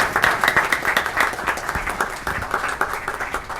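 An audience in a city freeholder meeting room claps steadily for a high school placing third in a school award, a dense, even patter of many hands with no voices over it.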